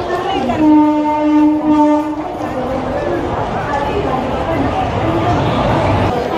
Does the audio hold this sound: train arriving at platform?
yes